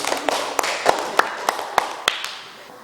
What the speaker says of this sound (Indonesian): Ya, berikan tepuk tangan untuk kelompok kerongkongan.